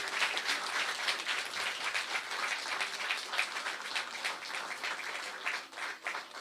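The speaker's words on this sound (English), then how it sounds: "Let's give them a bigger round of applause." Dense applause from an audience at an official digital device hand-over ceremony, continuous clapping of many hands rolling on for several seconds at moderate volume, fading slightly toward the end.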